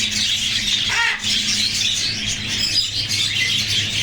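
Many caged birds chirp, tweet and squawk nonstop at a bird market in Medina, Saudi Arabia, a dense, close chorus of bright calls with an occasional dove coo mixed in.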